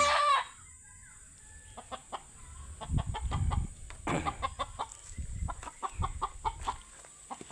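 A flock of noisy chickens clucks repeatedly and irregularly at close to moderate range, with several louder, sharper calls standing out and no voices.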